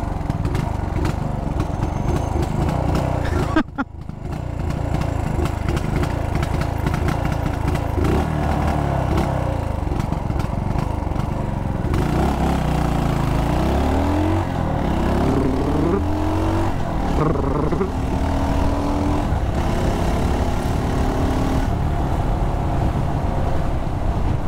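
A Mutt GT SR 250 motorcycle engine runs close by with a loud, steady rumble, then revs repeatedly with rising and falling pitch sweeps through the second half.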